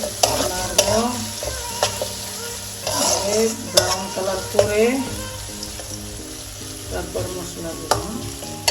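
Chopped onions sizzle and fry in a hot pan for a chicken roast, with a steady crackling hiss broken by repeated scraping stirs of a spatula, close and fairly loud.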